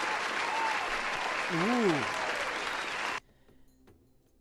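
Loud, dense clapping from a small group rolls on for about three seconds and then stops abruptly, with a voice briefly exclaiming over it partway through.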